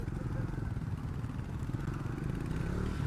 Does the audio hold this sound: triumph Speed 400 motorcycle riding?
yes